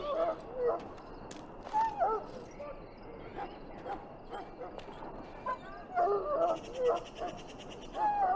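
A mabari war dog in its pen in Dragon Age: Origins whimpers and whines in short, high, pitiful bursts, scattered irregularly over a quiet background with faint yips.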